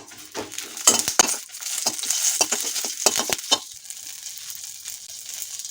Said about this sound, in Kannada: ಸಾಸಿವೆ ಸ್ವಲ್ಪ, ಉದ್ದಿನಬೇಳೆ, ಕೊತ್ತಂಬರಿ ಒಂದು ಸ್ಪೂನ್ ಹಾಕ್ಬಿಟ್ಟು ಚೆನ್ನಾಗಿ ಹುರಿಬೇಕು